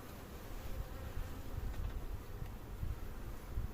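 Honey bees buzz steadily around an open hive during a spring inspection, a dense continuous drone of many insects, close and even throughout with no talk.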